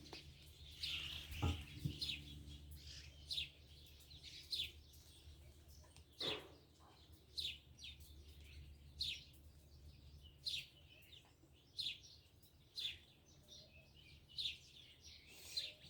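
Birds up in olive trees, short bright chirps repeating about once a second at a moderate distance, with faint background hum and an occasional thud.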